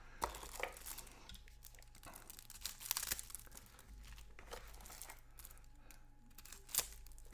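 Cardboard board game pieces punched out of their sheets for a Talisman 4th Edition expansion, heard as close crinkling, tearing and snapping bursts with a few sharper pops.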